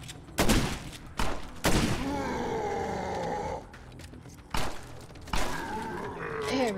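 Gunfire in the zombie video game State of Decay. Several loud, close bursts of shots come in uneven clusters, separated by lower growling or grunting sounds.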